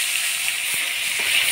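Chopped tomato frying in a pan of hot oil with dry red chilli, cumin seeds, bay leaf and whole garam masala, giving a steady, close hiss of sizzling throughout with no voices.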